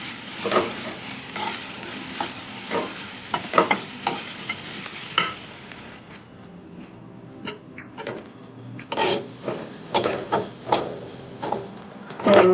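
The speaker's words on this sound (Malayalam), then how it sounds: "വേപ്പില ഇനി വറുത്തെടുക്കുക നന്നായിട്ട് വറുത്തെടുക്കണം" Curry leaves and onion fry in oil in a pan for a Kerala okra curry, a close sizzle broken by repeated scraping strokes of a spatula in an irregular rhythm, with no talk.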